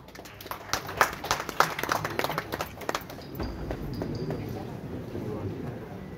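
A stage audience claps for a music director, scattered sharp claps building in the first half before thinning into a softer, blurred wash of sound.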